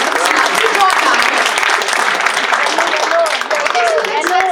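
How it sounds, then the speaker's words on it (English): Dense, loud round of applause from an audience at a finance seminar before a lucky draw, steady clapping throughout with a few voices chattering underneath. "give a big round of applause"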